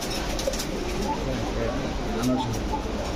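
Racer, Lahori and Kaka pigeons coo softly in a loft, low murmuring calls under steady background noise, with faint voices nearby.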